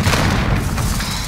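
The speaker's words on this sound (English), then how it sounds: "Throwing grenade!" A grenade explodes in Call of Duty Modern Warfare Headquarters gameplay, a loud, close, sustained boom with heavy low rumble filling the whole brief moment.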